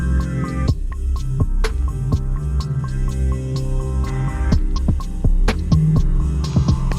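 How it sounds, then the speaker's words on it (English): A deep, droning 808 bass holds low sustained tones in a beat under production, layered with sharp percussive clicks and hits at an irregular rhythm, loud and upfront. "Let's hear the 808."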